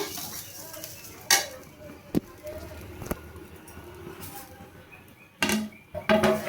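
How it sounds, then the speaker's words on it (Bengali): Spoon stirring sugar into pulao in a cooking pot, giving a few scattered scrapes and clinks of metal against the pot, with a sharper cluster of knocks near the end over a quiet kitchen background. "এবার চিনিটা দিয়ে আমি ভালোভাবে নাড়িয়ে নেব।"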